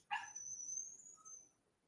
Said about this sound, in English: I hate that sound of a little puppy barking, yapping